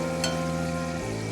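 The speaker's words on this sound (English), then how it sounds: "And I'm going to fry these mushrooms, cut them up, and fry them in real butter." Mushrooms frying in real butter in a pan produce a continuous close sizzle with a steady hum underneath and a brief brighter crackle near the start.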